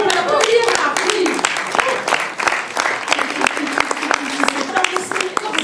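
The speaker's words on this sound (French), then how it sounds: "Ah oui, on peut applaudir, Marc, oui" Audience applause at a film tribute evening in a Paris cinema, steady dense clapping throughout, loud and close, with a voice speaking over it.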